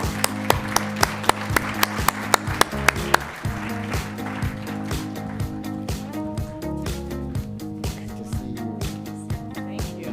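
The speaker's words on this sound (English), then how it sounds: "Please give Sudha a round of applause." Audience at a workforce summit gives a round of applause for a speaker, scattered claps at first, then a denser wash of clapping over steady background music.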